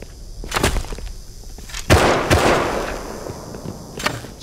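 Sharp gunshots in a video game ring out as a few separate, spaced cracks, with one louder blast near the middle followed by a fading tail.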